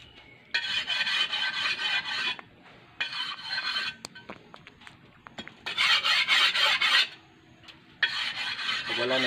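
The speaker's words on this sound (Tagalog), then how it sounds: "Ngayon, maghahasa muna kami para ito ay mabuo na." Sharp edges of a cut glass bottle being filed smooth to make a piggy bank, four bursts of harsh rasping strokes separated by short pauses and small clicks, close and clear with no talking.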